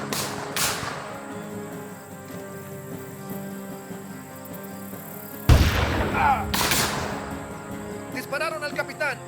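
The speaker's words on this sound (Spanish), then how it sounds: "¡Dispararon al capitán!" Gunfire in a western film battle during a frontier fort siege, with a few sharp blasts standing out over a dense, noisy backdrop of shouting voices and battle commotion.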